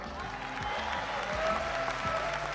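Audience at CPAC applauding Spanish Vox leader Santiago Abascal, a steady, dense wash of clapping from a large crowd that holds at an even level throughout, with no voices rising above it.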